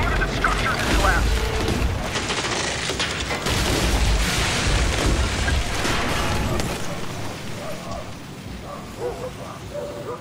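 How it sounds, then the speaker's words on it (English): Apartment building collapsing after a spreading fire in the Battlefield Hardline video game, a loud sustained rumbling crash with deep booms and debris clatter that gradually subsides into lighter rattling. "the fire will spread, consuming the entire apartment building, slowly taking out wall after wall until the whole thing comes down"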